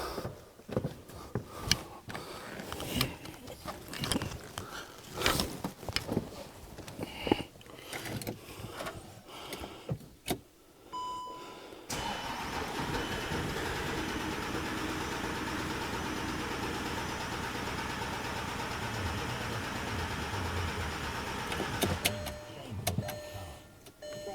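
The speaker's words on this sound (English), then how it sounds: "she's going to crank a second here before she fires, but here we go." A VW Audi 3.0 TDI diesel engine with its valve cover gasket replaced and injectors removed, cranking with uneven chugging for several seconds, then catching into a steady, even idle that holds to the end.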